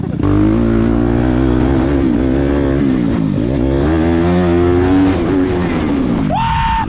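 A vehicle accelerates hard in second gear at a compound, its loud engine note climbing and wavering steadily for several seconds, then dropping off abruptly near the end.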